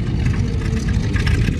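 A Stearman biplane's radial engine runs at an airshow startup, a loud, close, rough and steady throb with no break and no voices.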